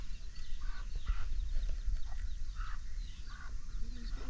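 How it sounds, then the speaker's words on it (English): A hen with her chicks clucks softly nearby, with low murmuring clucks and occasional higher peeps scattered over a steady background hum. "Hi, chickies."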